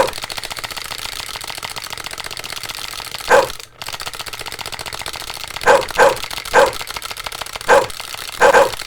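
Dogs bark in the video game Xmas Chortles, short sharp yaps arriving in a loose irregular series over a constant droning game background.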